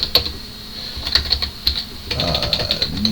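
Code being typed on a computer keyboard during a coding challenge: a quick, irregular run of close, crisp key clicks, with a faint murmur partly underneath toward the end.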